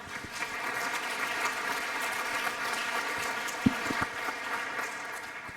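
A conference audience applauds a speaker after a talk on reuse in building construction. The clapping is soft, distant and steady, with a few sharper claps standing out near the end.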